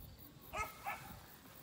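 A dog on a Vietnamese mangosteen orchard farm in Quảng Thành barks twice in quick succession, moderately distant against quiet rural background.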